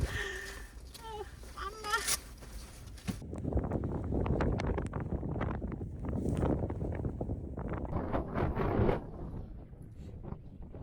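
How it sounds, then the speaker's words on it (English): Strong wind in Iceland buffets the microphone with a loud, continuous, gusting roar for most of the clip, following a few seconds of quieter sound at the start; no voices are heard. "that day it was hell for wind"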